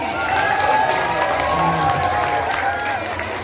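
Steady applause mixed with a noisy crowd at the opening of a Bali language festival, with voices calling out over the clapping throughout.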